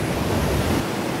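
Ocean surf breaking on a beach at Big Sur, California, a loud, dense, continuous rush of water with some wind noise, very brief and steady, no voices.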